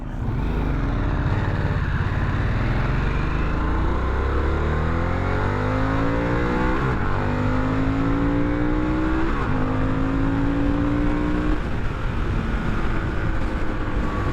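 A 2021 Harley-Davidson Sportster S engine revs loud and close through repeated accelerations, its pitch climbing and dropping with each gear change over about fourteen seconds, with no talking.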